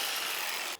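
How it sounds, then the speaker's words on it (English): A suspension link on a 2002 GMC Sierra being cut, a brief loud, harsh high-pitched grinding whine that holds steady under a second before cutting off abruptly. "We're gonna have to cut that link."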